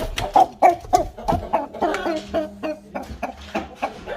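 A farmyard chicken clucks in a busy run of short, close calls, while a low hum and some background rustling continue underneath.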